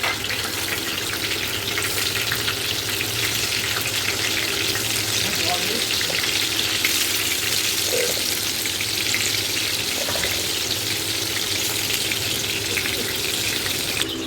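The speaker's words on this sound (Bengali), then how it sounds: "গরম হয়ে গেলে সব বেগুন ভাজাটা প্রথমে ছাড়বো।" Eggplant slices fry in hot oil in a wok, giving a continuous, even sizzle that stays loud and close throughout.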